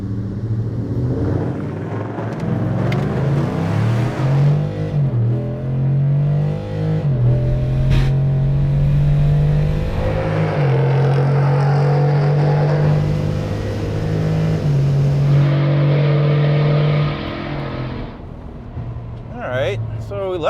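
Tuned Ford F-150 pickup with a Coyote V8 launching hard in 4-high at a drag strip, a loud sustained engine roar climbing through the revs for about seventeen seconds before easing off, with voices talking faintly underneath.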